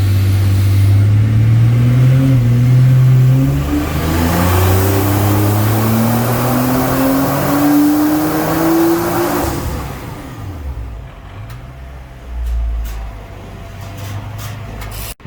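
Nissan R35 GTR engine on a dyno pull, a loud sustained roar climbing steadily in pitch over about ten seconds, then backing off to a lower idle burble with a few faint clicks.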